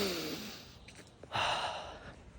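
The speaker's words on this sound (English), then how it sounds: "Take a deep breath." A person outdoors on a morning walk in nature takes a deep breath, a soft drawn-in inhale followed by a louder, breathy exhale, close to the microphone.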